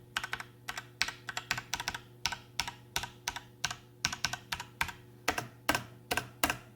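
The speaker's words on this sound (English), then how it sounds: "So you hear the boing boing on the F key." Mechanical computer keyboard typed at a steady pace beside a water-cooled PC, each crisp keystroke followed by a springy metallic boing ring, over a low steady hum of the pump.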